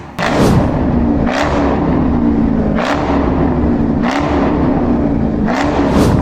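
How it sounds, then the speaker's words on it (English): A Dodge Hellcat engine revs hard in neutral, loud and close, with a sustained high roar broken by five sharp throttle blips at roughly even intervals. "You gotta put your car in neutral, and you just gotta rail that bitch."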